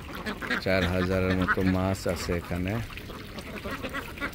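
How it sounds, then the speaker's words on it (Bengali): Ducks quacking at a Bengali fish farm with ponds, a run of loud, close, nasal calls in quick bursts over someone speaking throughout. "আর আছে হাঁস"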